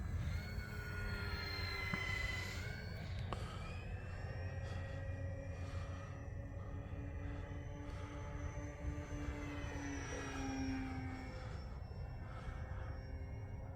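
Distant drone of a radio-controlled Beechcraft D18 twin-motor model airplane in flight late in the day, a steady hum with slowly shifting pitch as it passes, faint against outdoor background noise.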